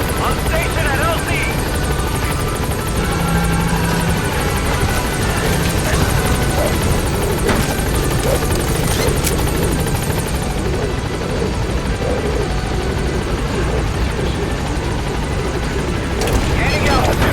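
Pequod, the helicopter from Metal Gear Solid V, rotor noise loud and steady throughout as it arrives at the landing zone, with gunfire and booms scattered over the drone.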